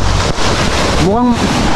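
Ocean waves at the shore in Infanta, Quezon, a loud continuous wash of surf mixed with heavy wind buffeting on the microphone, with a brief voice cutting in near the middle.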